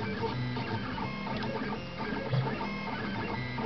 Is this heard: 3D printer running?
yes